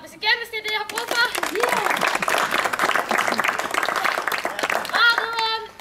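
An audience at an outdoor children's circus show on a stage claps in a burst between stretches of speech, children's voices and talk heard around the applause.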